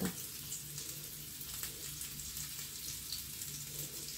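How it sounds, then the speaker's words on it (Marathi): Rava-coated ladyfish shallow frying in a pan, a steady, even sizzle of hot oil with faint crackles running throughout, close and unbroken. "असेच मी बाकीचे सगळे फ्राय करायला ठेवते"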